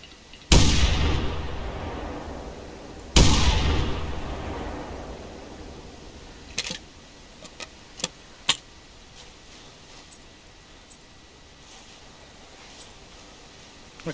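Two heavy shotgun blasts in theHunter Classic, fired at a wood grouse, each booming and trailing off, followed by scattered sharp ticks and clicks in a quiet outdoor setting.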